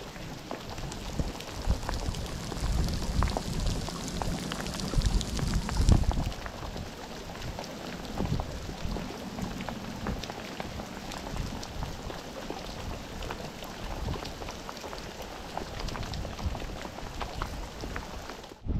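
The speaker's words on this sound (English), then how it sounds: "it's raining, raining now" Rain falls steadily on Sam Rayburn Reservoir with scattered drop hits and some wind buffeting the microphone, louder early on before easing to an even patter.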